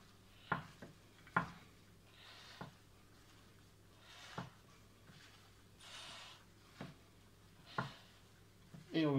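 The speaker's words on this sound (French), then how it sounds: "On mélange bien." A pita salad seasoned with fleur de sel and plenty of pepper is tossed in a bowl, giving quiet, sporadic clinks and soft scrapes close by with short gaps between them.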